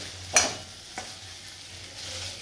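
Okra frying in a pan, a soft, continuous sizzle with a sharp scrape or clatter of stirring near the start and a fainter one a moment later.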